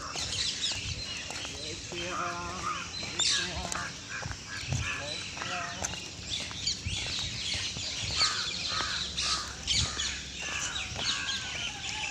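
A flock of parrots keeps up busy, overlapping calls and chatter, with a voice speaking over the birds throughout.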